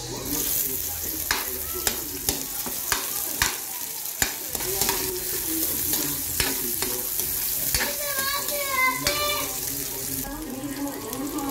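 Onions sizzle and fry in a pan while a utensil stirs and scrapes, with steady crackling throughout and a few sharper clicks, close up and without talking.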